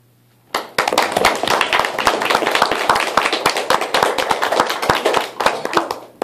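One performer claps out a rapid, rhythmic pattern on stage at a spoken-word show, with dense sharp claps that start abruptly and keep going for several seconds, loud and close, with no talking.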